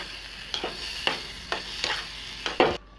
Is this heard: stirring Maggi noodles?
yes